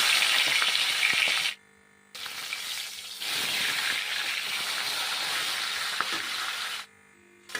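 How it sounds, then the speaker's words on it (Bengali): Fish heads fry in hot oil with a loud, bright sizzle that drops out briefly twice, then resumes steady and close, with no voices. "এরপর মাছের মাথাগুলোও ভেজে নেব"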